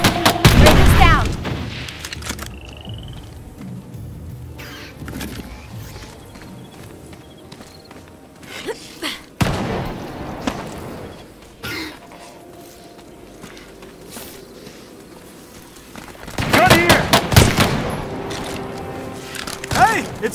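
Combat rifle fire in the video game Earthfall comes as sharp, loud bursts of gunshots at the start and again near the end, with quieter game ambience and occasional impacts between them.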